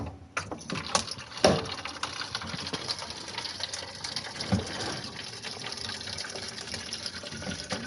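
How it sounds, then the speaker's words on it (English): Filtered water streams from a tap into a water bottle with a continuous hissing gush, fairly close and steady throughout, broken by a few soft knocks and clunks. "that's the water going into the water bottle"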